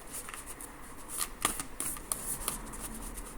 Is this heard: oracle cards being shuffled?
yes